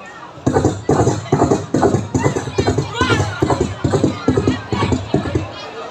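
A person imitates horse hooves and running with the mouth, a steady rhythmic clip-clop pattern of repeated bursts lasting several seconds, performed during a Friday morning religious talk for teachers and students.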